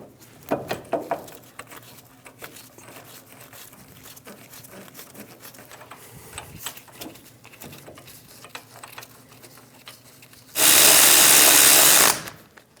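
Power tool drives in the hub assembly bolts while replacing a front steering knuckle on a 2001-2006 Chevrolet Silverado 2500 HD; quiet shop clatter gives way to one loud whirring burst of about two seconds near the end.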